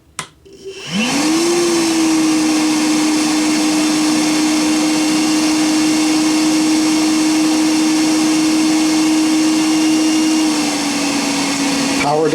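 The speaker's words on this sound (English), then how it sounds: "Pop it into the vacuum, and to show the problem, I do not need to go on to level number 2. Just level number 1 is going to work" A Milwaukee M12 Fuel 0960-20 cordless vacuum spins up on level one after a brief click, then holds a loud, steady whining drone for about ten seconds, its pitch dipping slightly near the end.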